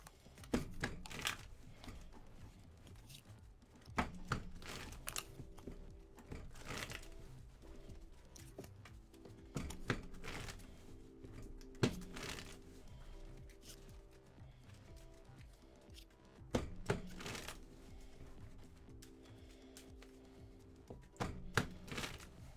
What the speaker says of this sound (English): I'm gonna play Marnie at the shuffle my deck first from the search.